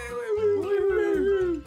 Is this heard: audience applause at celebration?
no